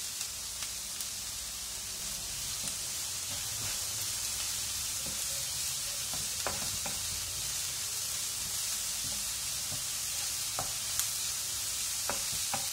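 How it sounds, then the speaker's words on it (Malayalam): Onions sautéing in oil with salt added crackle softly in a pan for a soya chunks curry, a faint continuous sizzle broken by occasional spoon taps and stirring, with no talk. "നമ്മുടെ ഓണിയൻസ് നന്നായിട്ട് വഴന്ന് വന്നിട്ടുണ്ട്"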